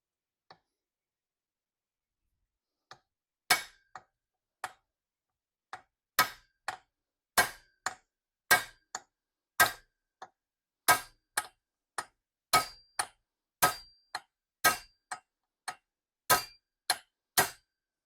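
Metal tapping on a seized part of a rusty Tohatsu outboard motor, a long series of sharp, evenly spaced strikes that gradually come faster and harder, close and alone with no talk.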